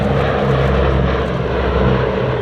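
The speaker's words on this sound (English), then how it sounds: "the B-17 Texas Raider." A B-17 bomber, the "Texas Raiders", flies close overhead at an air show, its piston engines and propellers giving a loud, dense, continuous droning roar throughout.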